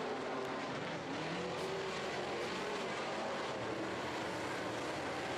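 Modified race cars in an eight-car heat roar around a dirt oval, a dense, continuous wash of engine noise with no break and no voices over it.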